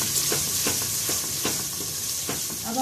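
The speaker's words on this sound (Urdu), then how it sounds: "اور اس کو 2 سے 3 منٹ کے لیے پیاز میں بھون لیں گے ہم" Ginger garlic paste frying with onions in a pan for a turnip and meat curry, a steady broadband sizzle throughout with repeated short scraping stirs at a regular rhythm, close and alone without talk.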